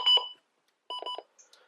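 A weather radio's button beeps in two short bursts of bright electronic tones, each a quick cluster of pulses separated by a pause, clear and close with nothing else around them.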